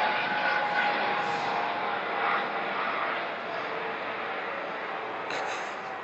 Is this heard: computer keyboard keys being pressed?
no